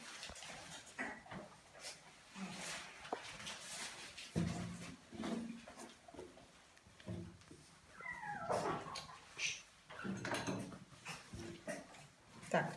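A griffon dog being trimmed whimpers and gives short yips in a quiet grooming room, the soft whines coming in scattered bursts, with someone talking in the background.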